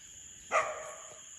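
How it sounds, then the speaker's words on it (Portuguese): One short dog bark rings out in the Amazon rainforest, a single sharp yelp midway through, set against a constant high-pitched whine of forest insects. "São 2 cachorros."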